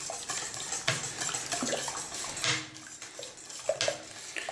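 Spoon or whisk working cannelé batter with four whole eggs in a bowl, giving repeated clinks and scrapes against the sides alongside light liquid sloshing, close and fairly quiet.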